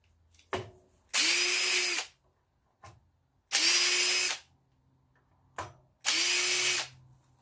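Three short whirring bursts from a drill turning a tap and reamer in a reamed hole of a mill fixture plate, each one preceded by a faint click, with near-silent gaps in between.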